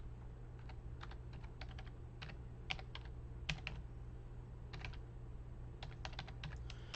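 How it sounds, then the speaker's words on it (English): Typing on a computer keyboard: brisk clusters of light key clicks with short pauses between bursts, close and fairly quiet over a steady low room hum. "I'm going to just type it in."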